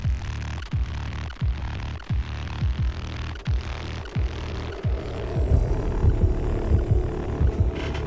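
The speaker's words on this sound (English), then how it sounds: "Ooh, that low rumble." A song playing, a deep, throbbing low rumble pulsing roughly every half second, swelling into a denser, louder low-end mix after the midpoint.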